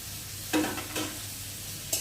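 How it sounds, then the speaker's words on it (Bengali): Potatoes added to hot oil with fried onion, stirred in a pan: soft sizzling bed with a few brief bursts of stirring and spattering, close and fairly quiet, no talking. "আলুগুলো দিয়ে ভালো করে ভেজে নেব"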